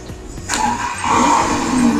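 Lamborghini engine in Gran Turismo 5 revs up, a loud mechanical roar that swells midway and holds strong to the end, with no talk over it.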